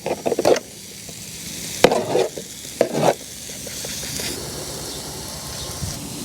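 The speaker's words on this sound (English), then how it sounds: "You can hear a little sizzle." French toast sizzles in a frying pan with a soft, steady hiss, broken by a few sharp utensil clanks and scrapes early on.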